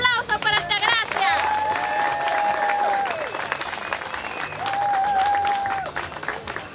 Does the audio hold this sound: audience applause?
yes